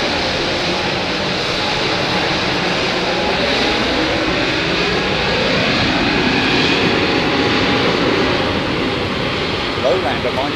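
A large airliner taking off on a runway, a loud continuous jet roar with a slowly shifting whine, steady and sustained throughout, heard from nearby.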